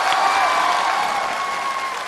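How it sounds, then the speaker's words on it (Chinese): An audience applauds a female champion on a televised crossover singing competition stage, a dense, steady wash of clapping with faint tonal sounds running underneath for about two seconds. "还是给娜娜拍拍手"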